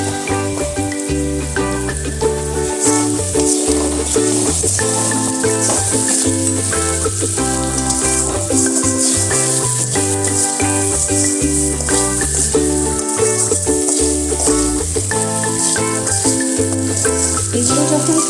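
Ground turmeric, cumin and coriander fry in a kadai for a soya dish, giving a loud, steady, continuous sizzle that runs unbroken for a long stretch.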